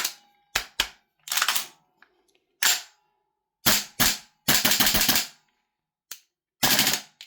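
A Salvo Precision MCX gas blowback airsoft rifle fires single shots and short rapid bursts, sharp loud clacks of the reciprocating bolt with silent gaps between, close to the listener.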